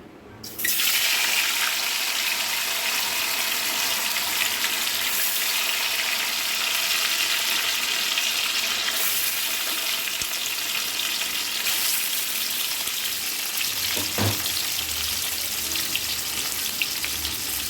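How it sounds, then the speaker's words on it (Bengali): Soya chaap pieces frying in hot oil with a loud, continuous close-up sizzle that starts suddenly and holds steady, plus one brief knock near the end, with no talking. "সয়া চাপগুলি একটা একটা করে ভেজে নেব সব"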